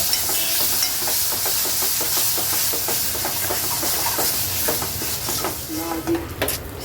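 Hand-ground masala paste fries in oil until the oil separates, a loud, steady sizzle and hiss with the rhythmic scrape of stirring running throughout.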